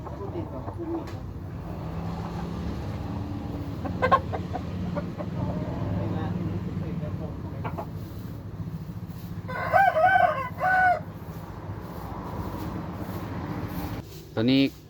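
A Thai fighting rooster crows twice, loud and close: a long crow near the middle and a shorter one at the end. Someone talks over a low background hum throughout.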